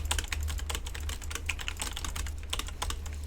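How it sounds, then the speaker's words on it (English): Fast, continuous typing on a battery-powered computer keyboard, crisp close-up key clicks in an unbroken rhythm over a faint low electrical hum. "But this keyboard is so delayed. It sounds better"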